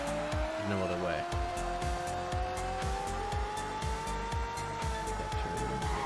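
Race car in the video game Race Condition braking hard with tires squealing over a steady engine drone, a rising engine tone and repeated rhythmic chirps throughout, loud and close.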